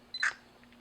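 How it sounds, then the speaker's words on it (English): A Sony QX10 lens-style camera fires its shutter when triggered from a phone: one quick, close mechanical click over a steady low electrical hum, with faint soft blips just after. "I'm just going to press the shutter button on the phone."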